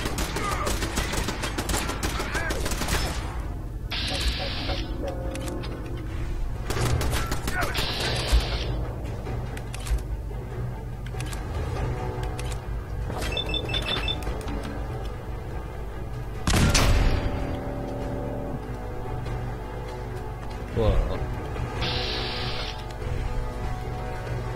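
Turret gunfire in Fallout 4 inside the Arcjet Systems facility: repeated bursts of shots and booming impacts over a steady game soundscape, with a few louder blasts standing out.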